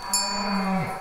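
A single cow moos loudly and close by in a field, one short low bellow that holds steady and then dips at the end.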